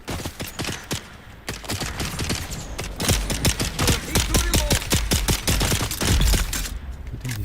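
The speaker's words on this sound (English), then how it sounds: "Good thing these guys can't shoot" Enemy gunfire in the video game Dune: Awakening erupts as a dense, loud fusillade of rapid sharp shots, with bursts packed closely together for several seconds.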